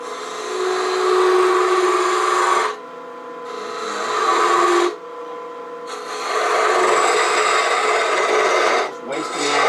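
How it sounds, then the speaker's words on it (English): A spindle gouge cuts a cherry burl finial spinning on a lathe, giving a steady close hiss in three long passes separated by brief pauses, with no talking. "Now we'll finish shaping the finial on this. I'm going to use a spindle gouge."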